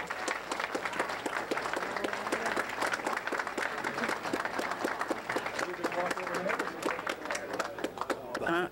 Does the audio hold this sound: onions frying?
no